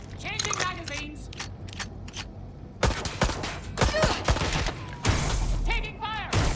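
Sharp bursts of gunfire in Watch Dogs Legion crack in rapid clusters, some close and loud, others sparser, amid shouted voices and combat noise.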